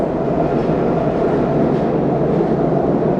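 A loud, continuous rumbling roar of a London Underground train rushing past close by at City Road, steady and dense with no voices.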